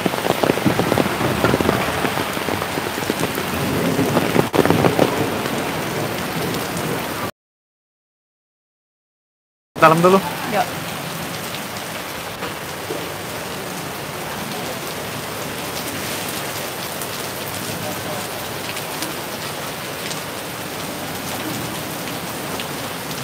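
Steady rain patters on a surface throughout, broken by a short silent gap; no clear thunder stands out.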